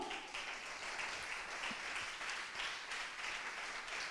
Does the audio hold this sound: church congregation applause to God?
yes